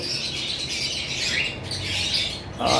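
An albino Fischer's lovebird chirps and squawks among other caged birds, with bright overlapping calls that run steadily and loudly throughout and no talking.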